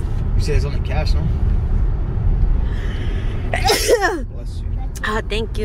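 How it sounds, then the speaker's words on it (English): A single sharp sneeze bursts out in a busy outdoor spot, with traffic rumbling behind it and voices talking around it. "I gotta sneeze."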